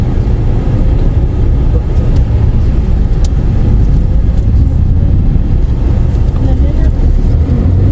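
Dense road traffic of cars and motorbikes on the route from Ooty to Munnar, a steady loud low rumble of engines rolling past with no pauses, close and continuous throughout.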